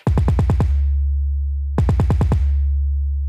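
Two loud bursts of deep 808 bass with the cut-itself setting enabled, each a quick run of punchy hits with cleaner, separated attacks, followed by a sustained low tone.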